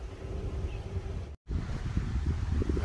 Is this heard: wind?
yes